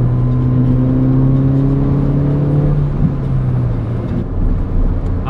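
A 2016 Ford Fiesta ST accelerates hard, its engine rising in a steady, loud, close whine that drops at a gear change around the midpoint and then climbs again.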